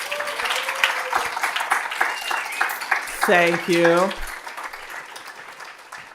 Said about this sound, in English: Give them a round of applause for me,